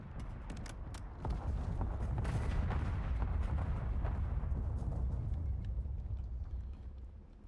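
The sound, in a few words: video game smoke screen artillery bombardment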